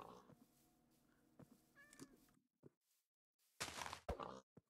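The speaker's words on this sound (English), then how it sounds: "Oh, there's a cat!" A cat in the Minecraft video game gives a couple of short meows early on, followed by scattered game thumps and clicks and a louder burst of noise near the end.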